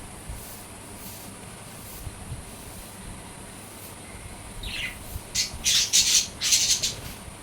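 Caged birds squawk in a short burst of sharp, high calls clustered near the end, loud against a steady low background hiss that carries through the first half.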